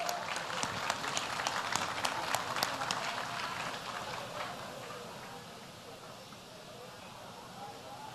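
Applause at a Brazilian event honouring Afro-Brazilian theatre productions, dense clapping from a crowd that is strongest at the start and gradually thins and fades, with murmuring voices underneath.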